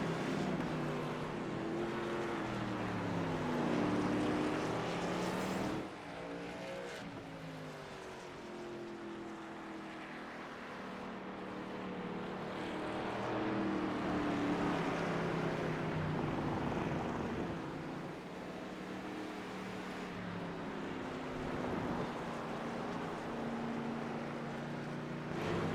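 Race cars circling the Portland track, a steady loud engine drone that rises and falls as cars pass, with no talk.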